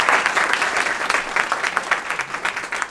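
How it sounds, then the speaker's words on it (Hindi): Audience applause from students gathered at a defence coaching academy to honour a classmate selected for the NDA, a dense, steady patter of many hands clapping close by, holding for about three seconds with no talk. "उनके तालियां बजाएं"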